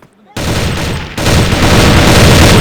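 Rapid automatic gunfire in the CrossFire shooter game, with dense bursts of loud close shots beginning abruptly after a brief quiet and intensifying partway through.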